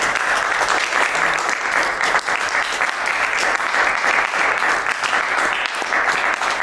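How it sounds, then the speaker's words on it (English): A large audience at a university saxophone master class breaks into sustained, dense applause, loud and steady throughout with no pauses. "let's give Walter a round of applause."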